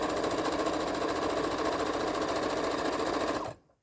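A sewing machine runs steadily, stitching one straight line across the top hem of a small tote bag pocket, a loud continuous whir that cuts off abruptly near the end.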